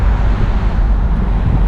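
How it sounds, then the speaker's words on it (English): A 2008 BMW 135i Convertible accelerating, heard from inside as a loud, steady low engine drone mixed with road and wind rush, continuous and close with no talking. "Now I'm gonna change my lanes here and do some acceleration."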